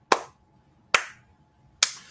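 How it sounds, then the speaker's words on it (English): Three single, sharp hand claps ring out alone, evenly spaced under a second apart, each crisp and close with a short decay into near silence. "remember when the Worthy clap?"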